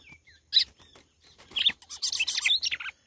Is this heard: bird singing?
yes